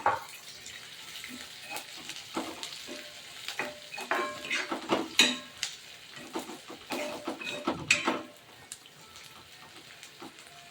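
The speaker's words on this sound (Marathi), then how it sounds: "कांदा फ्राय होता होता शेंगदाणे पण मस्त फ्राय होते" Chopped onions and peanuts fry in a pan for upma. There is a soft, steady sizzle with scattered scraping stirs and clinks, fairly quiet and close, with no voices.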